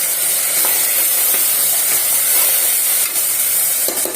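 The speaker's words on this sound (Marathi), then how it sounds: "2 मिनिटं हे वाटण एकत्र भाजू देऊया कांद्याबरोबर" Ground masala paste sizzles and fries with browned onions in a pan for egg pulao, a loud continuous hiss with occasional scrapes and soft clicks of stirring close by, no voices.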